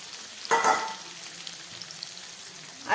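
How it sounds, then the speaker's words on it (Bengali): Garlic, tomato, capsicum and broiler chicken frying lightly in a pan, a soft steady sizzle with a brief louder burst of stirring near the start, no voices. "এই সব কিছু দিয়ে আমি একটু ভেজে নেব।"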